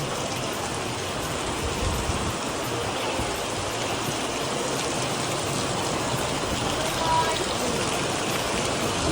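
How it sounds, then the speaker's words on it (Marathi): Steady, heavy rain in Mahabaleshwar roars as a dense broadband wash, constant and close throughout, with faint voices murmuring beneath it. "इथे किती पाऊस आला आहे जोराचा भरपूर जोरात पाऊस पडतो"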